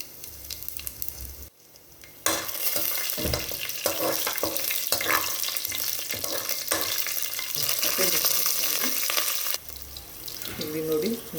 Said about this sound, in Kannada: ಇವಾಗ ನಾನು ಟೊಮೆಟೊ ಬಾತ್ಗೆ ಏನು ಮಸಾಲ ಐಟಮ್ಸ್ ಬೇಕೋ ಎಲ್ಲ ಎರಡು ತಗೊಂಡು ಇದನ್ನು ಫ್ರೈ ಮಾಡ್ಕೊತಿದ್ದೀನಿ ಹಾಕ್ಕೊಂಡು